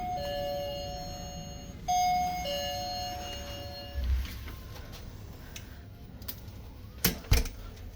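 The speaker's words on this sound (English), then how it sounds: "if we want a room cleaned, we also have a doorbell" An electronic cabin doorbell on a cruise ship chimes two tones, then rings again a moment later, followed by a few soft clicks and taps.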